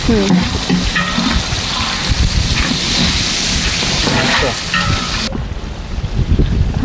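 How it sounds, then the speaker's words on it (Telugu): Onions frying in oil in a home kitchen, a loud, dense sizzle with stirring scrapes that runs steadily before dropping away near the end, with no talk. "ఇప్పుడు ఆనియన్స్ అయితే వేసుకుందాం"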